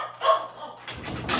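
Several dogs bark and yip excitedly indoors, a few sharp close barks rising into a busier burst of overlapping barking near the end.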